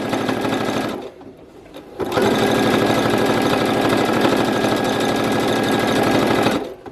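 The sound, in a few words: sewing machine stitching a belt with Velcro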